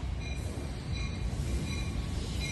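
A train rolls past with a steady, loud rumble of wheels on rail and a faint metallic squeal riding over the top, continuous throughout.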